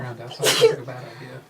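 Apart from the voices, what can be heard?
sneeze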